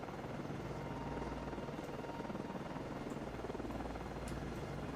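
A helicopter lands on an Oliver Hazard Perry class frigate in a naval video game, its rotor a loud, steady, rhythmic thumping whir over rushing wind, continuous with no voices.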